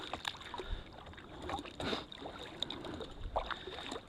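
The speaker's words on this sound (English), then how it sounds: "Another great day to be doing nothing but paddling on a lake." A canoe is paddled across Murtle Lake in Wells Gray Park, British Columbia, in summer, with soft repeated paddle strokes and water swishes over a steady breeze and outdoor ambience.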